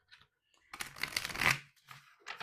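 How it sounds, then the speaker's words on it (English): A deck of tarot cards is shuffled close up in quiet bursts of riffling and soft paper flutter, with short pauses between them and no talking. "Just doing a shuffle here for Gemini."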